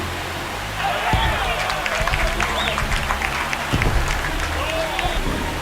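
Home crowd in MLB The Show 26 swelling into a sustained roar and cheer during a Dodgers vs Phillies simulation, loud and steady throughout with broad noise, while an announcer talks over it.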